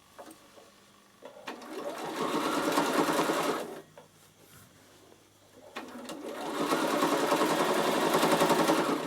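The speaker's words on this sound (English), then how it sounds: "I just keep stitching down there" A Bernina sewing machine stitches a half moon bag in two long, steady runs of rapid whirring, separated by a short pause with light handling clicks.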